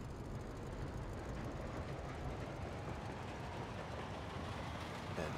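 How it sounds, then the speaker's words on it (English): A train pulls out in the video game Workers & Resources, a quiet, steady rolling rumble that holds evenly throughout with no voices. "we've got a train leaving"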